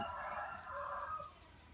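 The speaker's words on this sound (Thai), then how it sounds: "อาจสิได้ยินเสียงไก่ ห้องนกห้องเนาะพี่น้อง" Chickens and a rooster in a backyard, heard as a single sustained fowl call that rises and holds before fading, fairly close and clear with no talking over it.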